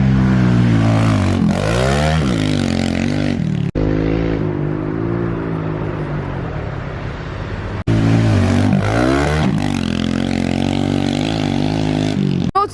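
A Kawasaki KLX110 minibike engine revs loud and close during garden riding and trials practice, rising and falling in repeated throttle bursts with a brief cut near the middle before climbing again.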